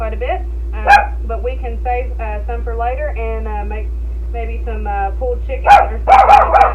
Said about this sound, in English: the dog's barking because my husband's in for work